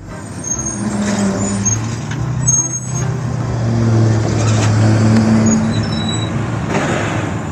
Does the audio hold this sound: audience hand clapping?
no